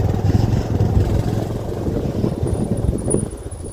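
A motorbike rides along a road near the pond at Shree Antu in Ilam, its engine giving a steady, close, low rumble with wind noise for the whole stretch.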